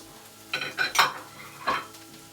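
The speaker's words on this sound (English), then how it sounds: "I'm just going to give that a quick stir." Napa cabbage and bean sprouts stirred in a hot pan, a few quick scraping, clattering strokes of a utensil against metal over a soft background sizzle.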